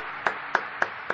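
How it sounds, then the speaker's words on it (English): Four evenly spaced, sharp claps ring out one after another at a steady rhythm, moderately close and alone, during a church Bible study service honoring a couple's 50th wedding anniversary. "Let's give them a strong applause"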